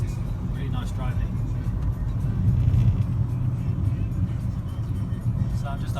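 A 2012 Fiat 500c with the 0.9 engine cruises in fourth gear, its steady low engine drone and road rumble filling the cabin at a constant level while a person talks over it.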